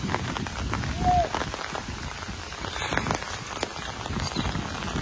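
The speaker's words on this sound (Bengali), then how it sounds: "পুরো সব শেষ করে দিচ্ছে বৃষ্টি" Heavy rain patters steadily on surfaces and farmland with scattered heavier drops, a dense continuous wash throughout, with no clear talking.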